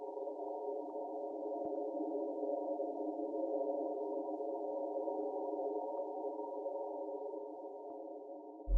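A soft synth pad from a three-oscillator FL Studio patch layered with a granulizer sustains as one smooth, hollow drone, holding a steady level for the whole stretch and cutting off at the end.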